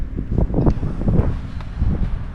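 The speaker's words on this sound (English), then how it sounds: "A bit windy." Gusty wind at South Lefroy on New Year's buffets the microphone in uneven, rumbling surges that rise and fall throughout the short stretch.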